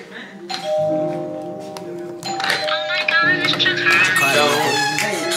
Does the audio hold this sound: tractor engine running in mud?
no